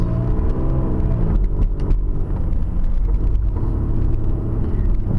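Car engine pulling steadily away to cross a busy intersection during a driving lesson, a continuous loud close rumble with a slight rising rev throughout.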